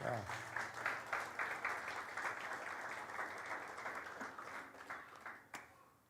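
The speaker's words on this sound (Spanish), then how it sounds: "Dale un aplauso al Señor por esto." A church congregation applauds the Lord with a broad, fairly quiet wash of many clapping hands, with voices faintly underneath, fading out toward the end.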